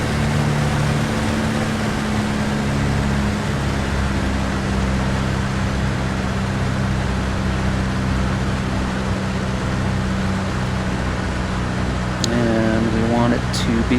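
A light aircraft engine held at 1,800 RPM on descent in the X-Plane flight simulator drones as a steady, loud, even hum with constant pitch, and a voice speaks briefly near the end.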